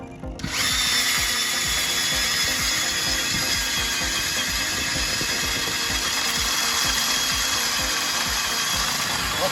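A power ice auger bores a fishing hole through frozen lake ice, its motor starting abruptly and then grinding steadily and loudly close by, with a fast ratcheting churn as the bit cuts. No talk is heard over it.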